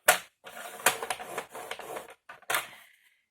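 Stiff paper or card being folded and creased by hand into a crafted page, giving a run of crisp crackling presses and sharp snaps close up, with brief pauses between creases.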